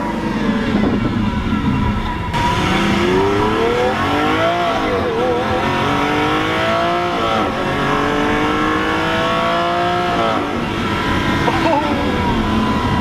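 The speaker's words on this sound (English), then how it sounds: "it's been too long since I've been in a Lamborghini Aventador. That single clutch it's so brutal." A Lamborghini Aventador supercar with a single-clutch gearbox accelerates hard, heard loud from inside the cabin, its engine wailing up through several gears with sharp drops at each shift, and voices exclaiming under the roar.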